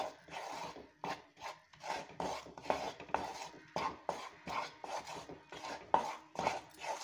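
Roasted gram flour (pottukadalai maavu) being stirred in ghee in a pan for burfi, giving repeated scraping and rubbing strokes of a spoon against the metal, steady and close, with no talking.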